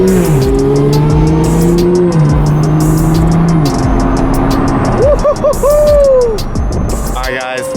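A Ferrari 430 Scuderia with an Agency Power titanium exhaust pulls hard, its engine note climbing in several loud, close, rising sweeps between shifts, then dropping off into a brief squealing whine as it slows.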